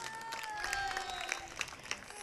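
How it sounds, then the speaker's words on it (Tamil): Audience clapping at a Tamil gathering, a brief moderate patter of hands over a sustained musical tone, with a few sharper claps standing out. "கைதட்டு."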